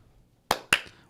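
Two sharp hand claps come in quick succession, each short and crisp, close and loud against near silence.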